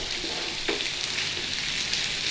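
Potatoes for corned beef hash sizzle steadily in a hot pan, a loud, continuous hiss of frying with a faint scrape of stirring near the start, and no talking.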